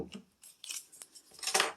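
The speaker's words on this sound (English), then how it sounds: "Scissors to remove tags." Scissors snip off tags in a few quick, close, crisp cuts, with small gaps between them and no voices, in a quiet room during a dollar-store craft project.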